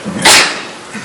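A single sharp sneeze bursts out loud and close, a brief broadband blast that fades quickly into quiet room tone.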